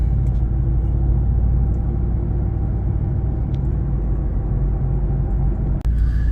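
A pickup truck cruises down the road, giving a steady, close, low rumble of engine and road noise throughout, with a brief clunk near the end.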